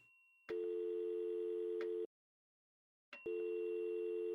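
A telephone rings in the video game Omori, a steady electronic tone in two long bursts separated by a short silence, loud and clear with no talking.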